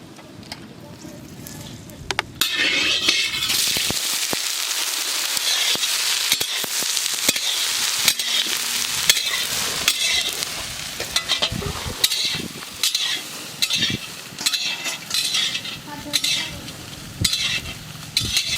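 Soybeans frying in mustard oil in a wok crackle and hiss loudly, with scraping stirs and clattering spatula knocks at an uneven rhythm, under intermittent talk.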